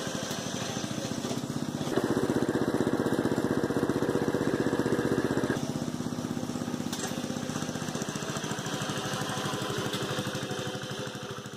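A riding lawn mower's engine runs steadily and close by, a continuous loud drone that swells louder for a few seconds before settling back to an even running tone.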